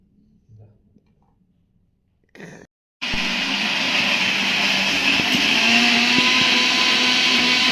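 After a few faint knocks and a brief rustle, an electric mixer grinder grinding garlic suddenly starts and runs with a loud, steady, high-pitched whirring roar.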